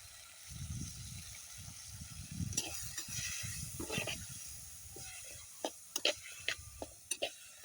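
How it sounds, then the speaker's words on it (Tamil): Masala mixture sizzling in a pan, with a soft hiss and frying crackle near at hand and a few sharp clicks of a stirring utensil toward the end. "இன்னும் கொஞ்சம் நல்லா கிளறணும்"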